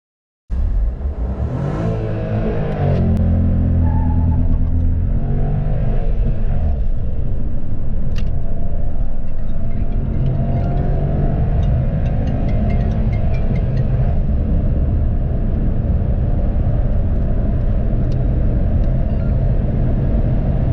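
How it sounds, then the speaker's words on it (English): A Renault Kiger car accelerating hard from a standstill to 100 km/h, its engine drone rising steadily and loudly for about twenty seconds with road rumble, heard from inside the cabin with no talking. "So now let's do 0 to 100 acceleration and see how fast the car goes from 0 to 100."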